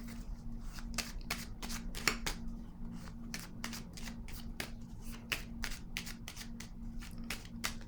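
Tarot cards being shuffled by hand to draw a clarifying card: quiet, close riffling and snapping flicks in irregular quick succession over a low steady hum, with no talking.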